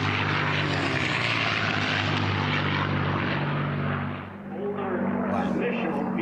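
An unlimited-class racing airplane roars past at the Reno air races. A loud, sustained propeller-engine drone fills the air, dips briefly, then returns as the plane goes by.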